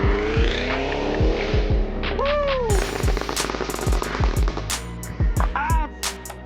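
A Cadillac Escalade V's engine revs hard in a series of sharp, throaty blips and rising roars, loud and close, with rattling crackle between the bursts.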